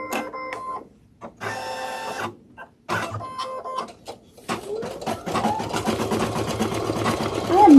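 An embroidery machine stitches a felt mask, its rapid mechanical needle chatter starting and stopping in short bursts before settling into a steady, continuous run, loud and close.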